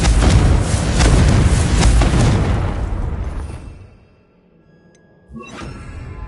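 A Confringo spell blast goes off in Hogwarts Legacy as a loud, deep roaring explosion that rumbles for about three seconds and fades to near silence, followed by a smaller burst and a lingering hiss.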